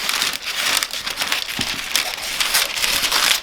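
Wrapping paper is pulled and torn free from its roll, giving dense, continuous crinkling and rustling close by with a few sharper crackles.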